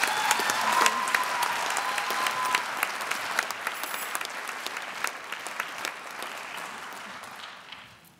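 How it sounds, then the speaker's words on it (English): Sustained audience applause at a university achievement celebration, a dense wash of many hands clapping in a hall, loud and steady for several seconds before trailing off at the end. "Please welcome both with a round of applause."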